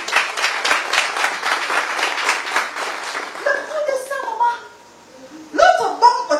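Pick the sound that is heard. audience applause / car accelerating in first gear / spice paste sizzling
audience applause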